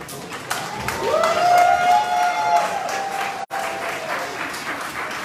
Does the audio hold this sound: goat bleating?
no